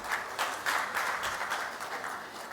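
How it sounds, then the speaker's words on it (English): An audience at a stakeholder engagement forum gives a short burst of steady applause, with many hands clapping together in a large room. "A round of applause again, one more time, please."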